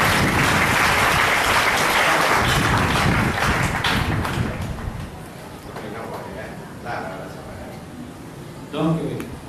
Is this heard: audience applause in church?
yes